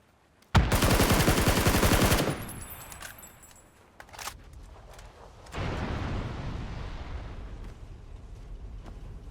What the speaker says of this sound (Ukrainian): Давай постріляємося.